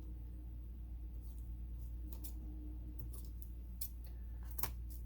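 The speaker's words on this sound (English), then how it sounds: "Take your scissors and trim away that excess tape on the cover here" Scissors trimming excess tape along the edge of a storybook journal cover, a few faint, crisp snips spaced irregularly over a low, steady room hum.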